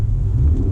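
An Acura NSX accelerating on a road, a steady loud low engine rumble building throughout, close and continuous with no talk.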